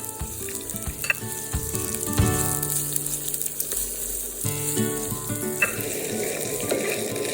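Diced onion and chopped ginger sauté in a hot pan with a steady close sizzle, punctuated by clinks and scraping of a utensil stirring through the pieces.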